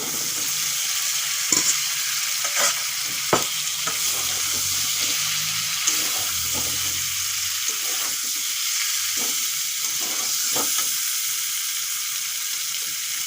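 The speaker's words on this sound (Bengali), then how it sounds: "মশলার সাথে সবজিগুলো একটুক্ষণ কষিয়ে নিয়েছি" Fried cauliflower pieces, other vegetables and eggs sautéed in spice masala for a cauliflower and egg curry: a continuous loud sizzle with scraping and stirring knocks from a utensil in the pan.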